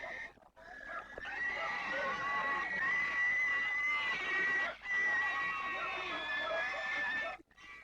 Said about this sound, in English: Pigs are brought to be blessed,